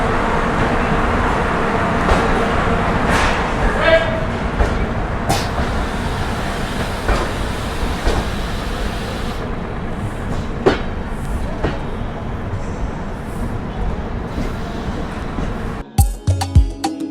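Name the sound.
Duronto Express train running, clickety-clack in 3rd AC coach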